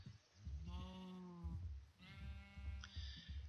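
Two drawn-out sheep bleats from a Minecraft farm pen, fairly close and faint, with soft background game noise.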